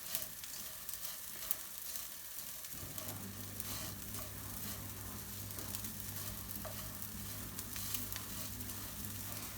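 Onions roasting and caramelizing in a pan for Indian restaurant-style pilau rice, a steady broadband sizzle with stirring that grows fuller after a few seconds, continuous and close with no talking.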